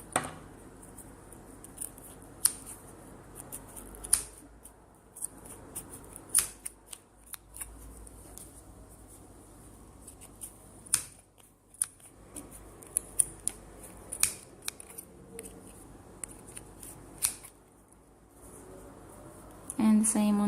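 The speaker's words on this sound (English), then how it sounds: "we need to start to cut our yarn in the middle" Scissors snip through yarn wound on a pom-pom maker in a steady series of close, crisp cuts with short pauses between them, and a voice speaks briefly near the end.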